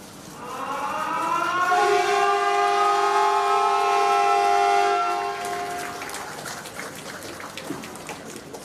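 A Jabodebek LRT light rail train near Jakarta, Indonesia, sounds a long, steady horn that swells and fades at its opening ceremony, with rumbling rail noise continuing afterward.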